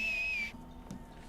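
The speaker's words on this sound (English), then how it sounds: "Whistle? What different types of whistles? Can I listen to it?" A player's horse-calling whistle in the Western video game Red Dead Online, heard as a single clear, high whistle lasting about half a second, then fading into quiet game ambience.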